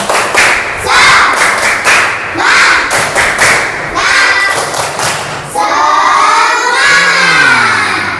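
A classroom group performs the rhythmic tepuk semangat spirit clap, loud and close. Bursts of clapping and thumping come in a patterned beat, and a chanted cheer with voices follows near the end.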